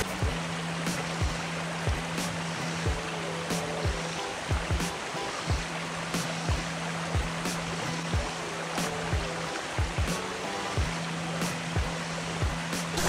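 A creek flows in a steady, close wash of water, with faint repeated knocks and clicks running through it and no talk.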